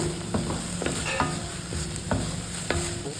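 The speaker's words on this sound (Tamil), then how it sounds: "லைட்டாக ஒரு கிண்டு கிண்டிக்கிடுவோம்." Vegetables stirred in a hot pan for a weight-loss salad, with a spoon scraping at several points over a steady low frying sizzle, close and fairly loud, with no voices.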